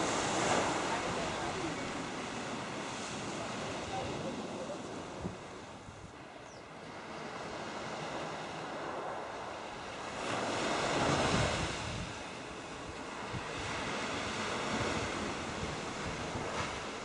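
Waves wash continuously onto an Algarve beach in southern Portugal, with surges swelling and receding amid light wind noise, heard from a moderate distance at a soft level.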